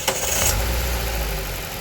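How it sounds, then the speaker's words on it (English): A car engine cranks briefly and catches, a short strained starter whir at the start giving way to a steady, close, loud running drone during a battery test. "now I'm going to crank the engine."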